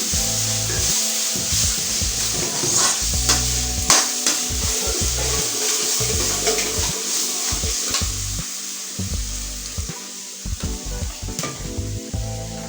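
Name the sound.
tomatoes sautéing in a pan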